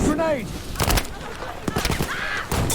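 Battlefield 5 combat: bursts of close gunfire and a sharp grenade blast crack out amid chaotic battle noise, while a player talks over the action.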